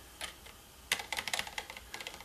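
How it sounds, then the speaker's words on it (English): Keys clicking on the mushy keyboard of an Epson HX-20 portable computer, one isolated tap, then a quick burst of uneven keystrokes with short pauses, close and clear with no talking. "And this keyboard feels a bit mushy to me."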